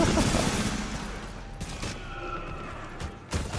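Rapid automatic gunfire in an online shooter game's Dark Zone, a dense burst at the start, then a few scattered sharp shots over background game noise.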